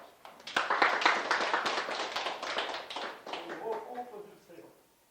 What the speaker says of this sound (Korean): 이 박수로 환영하겠습니다